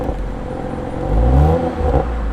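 Exhaust of a 2022 Toyota Supra A91 CF-Edition with an aftermarket Fi valved exhaust, valve open, rising into a loud, close rev that swells midway and holds, a deep throaty drone with no talking.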